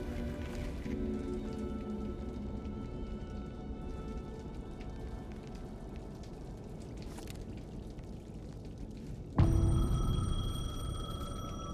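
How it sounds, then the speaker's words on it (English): A payphone rings through steady rain in Alan Wake 2, the bell faint beneath the downpour until a louder burst of rain and ringing near the end. "The payphone was ringing."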